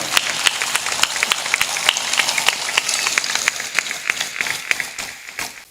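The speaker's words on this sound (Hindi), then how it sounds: "ताली बजा दो।" Scattered audience clapping at a devotional gathering welcoming a devotee, steady sharp claps at moderate distance continuing for several seconds before trailing off.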